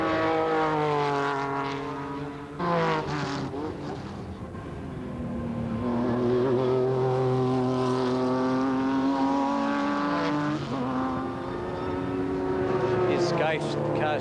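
A race car driven hard at Eastern Creek in 1991, its engine screaming at high revs with rising and falling pitch as it shifts and passes, loud and sustained throughout.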